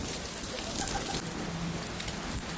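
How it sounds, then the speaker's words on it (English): Steady rain pours outdoors at a concert tour stop in Charlotte, a dense, even hiss with a few faint bird-like notes, moderately quiet and with no talking. "It's fucking raining."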